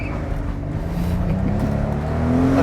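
A Mercedes SL65 engine revs, its low exhaust rumble swelling steadily and rising in pitch toward the end, loud and close throughout.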